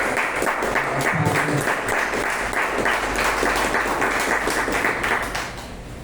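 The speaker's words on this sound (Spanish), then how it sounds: "Démosle un fuerte aplauso." Church congregation breaking into loud applause, dense hand clapping with a few sharper individual claps standing out, sustained before easing off at the very end.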